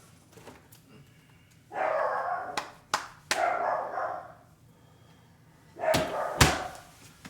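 A dog barks in a few bursts, fairly close and moderately loud, with short gaps between them and quiet room tone in between.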